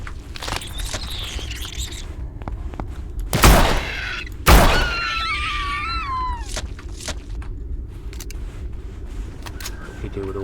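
A turret firing in the video game Empyrion Galactic Survival, two loud, sharp blasts about a second apart, standing out over a quieter background of chirping game sounds and someone talking.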